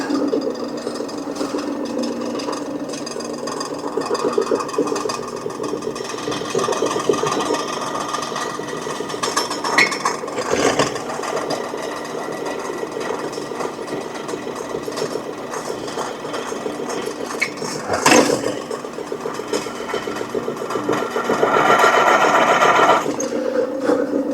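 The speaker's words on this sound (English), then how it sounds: "see if we can get a hole drilled in this thing" A drill boring a hole runs continuously at close range, a steady buzzing whine that slows and speeds in places with a few brief knocks, growing somewhat louder near the end, with no talk.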